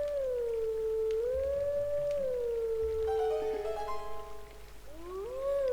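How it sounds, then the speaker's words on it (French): In the Zelda: Twilight Princess HD video game, a wolf lets out a long, loud, tonal howl that rises and falls, holds steady, then glides again in a second howl. No one speaks over it. "à la place de siffler, on peut hurler maintenant"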